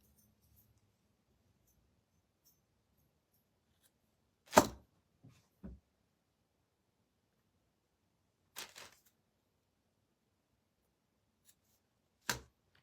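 Scissors trimming small pieces from a faith-themed wooden craft kit, giving a few sharp, isolated snips with long silences between them, close and clear with no talking.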